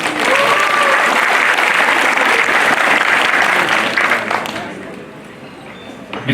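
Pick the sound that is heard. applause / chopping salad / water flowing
applause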